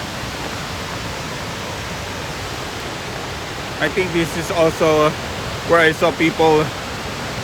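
Crystal Creek Waterfall in Shasta-Trinity National Forest, Shasta County, California, pours in a constant loud broadband roar throughout, while someone speaks briefly over it in the second half.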